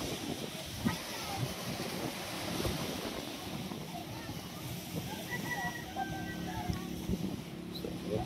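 Wind blows steadily across the sea off Mapanas, Northern Samar, with a broad, constant rush and roar of waves, while someone talks over it.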